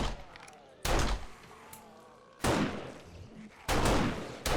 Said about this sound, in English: So I'm going to focus on just doing damage for a little bit with the pistol.